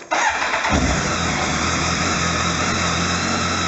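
A BMW K1300 motorcycle engine cranks and fires on a freshly installed Shorai LFX lithium battery, catching within half a second and then settling into a steady, close, loud idle.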